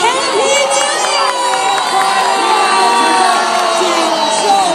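A large New Year's Eve crowd at the Taipei 101 fireworks show cheers, screams and whoops continuously, loud and dense, with children's shouts mixed into the roar.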